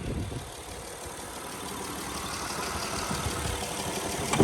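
A 2016 Honda Odyssey EX-L minivan's engine runs at slightly raised RPM, a steady close mechanical hum with faint rumble that swells a little toward the end, with no talking.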